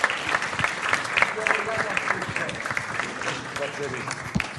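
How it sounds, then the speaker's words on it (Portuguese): An audience at the Encontros no Palácio de Belém event applauds in a sustained burst of dense clapping, with a voice speaking over it the whole time. "Bom, mais uma salva de palmas para ele realmente iniciar."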